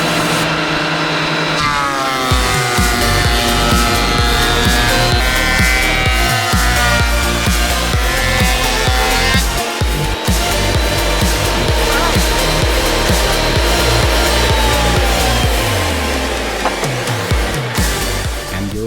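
A Metabo DH330 electric planer runs continuously while shaving wood, a loud close high-pitched motor whine with a gritty cutting roar that shifts in pitch as the blade bites and winds down near the end.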